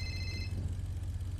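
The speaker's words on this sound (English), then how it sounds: "Who phone just rang, man?" A phone rings in the GTA V NoPixel roleplay game: a short electronic trill that stops after half a second and leaves a low, steady hum.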